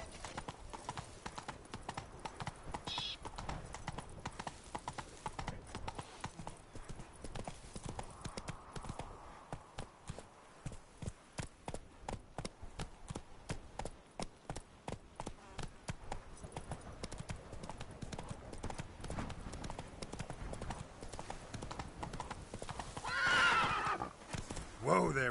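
The horse Roach in a video game trots with a rapid, steady clip-clop of hooves throughout, then whinnies loudly near the end, with a voice speaking now and then.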